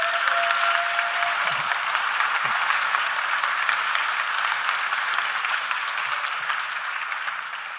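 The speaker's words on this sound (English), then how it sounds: "let's give him a round of applause" A conference audience at a crypto summit gives a speaker a steady, dense round of applause that continues for several seconds and slowly tapers toward the end, with no voices heard.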